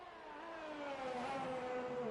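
F1 race car with a Mechachrome engine accelerating at Silverstone, its high-pitched engine note rising steadily in pitch and loudness, close and continuous with no one speaking.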